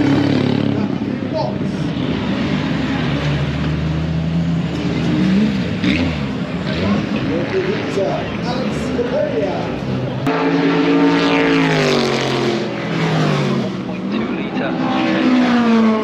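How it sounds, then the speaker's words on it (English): Race cars at the Silverstone Festival, a circuit racing event, roar past with sustained engine noise and a rising, sweeping pass near the middle, mixed with a commentator talking over the PA and crowd ambience. "super loud and fast cars, and you'll see them shortly coming up doing the racing"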